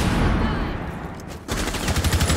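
Gunfire in a Rainbow Six Siege collegiate match, loud and continuous: dense shots and crackle filling the first half, a brief dip, then a fast rhythmic burst of rapid reports, with no speech over it.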